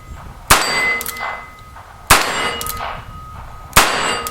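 Shots from a .44 caliber black powder revolver striking a steel gong in a backyard, three sharp, loud metallic clangs about 1.6 seconds apart, each ringing out with a bright sustained tone.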